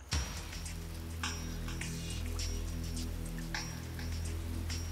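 Steady rain falls during the rainy season over grassy, muddy ground in Botswana's Linyanti swamps, a dense continuous patter with a low background hum and no voices.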